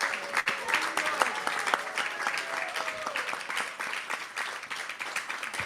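An audience applauds at a Janmashtami devotional gathering, a dense, steady wash of many hands clapping for several seconds without a break.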